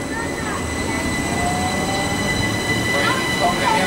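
A Southern Electrostar class 377 electric train hums and rumbles steadily as it pulls away from Portslade Station, with faint wheel squeals and a rising whine, close by.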